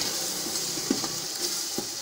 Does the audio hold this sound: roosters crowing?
no